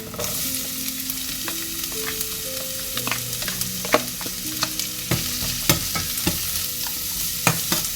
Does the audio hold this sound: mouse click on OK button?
no